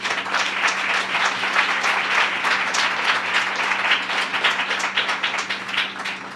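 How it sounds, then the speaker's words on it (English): Audience applause for the jury at the 2014 Scotiabank Giller Prize shortlist announcement: brisk, continuous clapping from a crowd over a steady low hum, easing slightly near the end. "I think they should get a round of applause"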